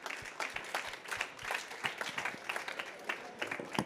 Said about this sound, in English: If I may ask everyone to join me in a round of applause to our speakers.